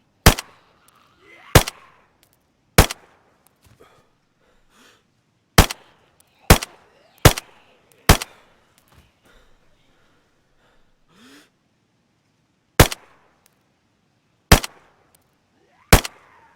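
A submachine gun firing .380 rounds in DayZ, about eleven sharp, loud single shots spaced irregularly a second or more apart, with quiet gaps between them.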